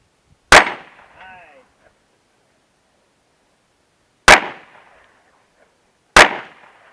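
Three sharp gunshots at an outdoor shooting range, a pair of shots a few seconds apart then a third, each loud and close with a short decaying echo, in otherwise quiet surroundings.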